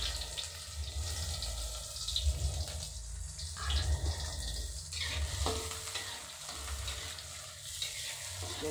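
Garlic and shallots sauté in a pan for a simple tuna sour dish, a steady close sizzle and frying hiss with stirring scrapes, with no one talking.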